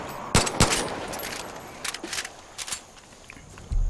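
A couple of sharp gunshots early on in Far Cry 5, followed by scattered quieter bursts of game gunfire and rustling, with a heavy thump at the end.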